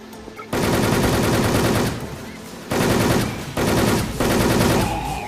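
Rapid automatic gunfire in the online shooter Wolfteam, loud and close, coming in several sustained bursts separated by short pauses.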